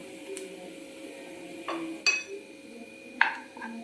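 A metal spoon clinks a few times against a dish while Kashmiri chili powder is stirred into beetroot pickle, sharp isolated taps over quiet kitchen room tone.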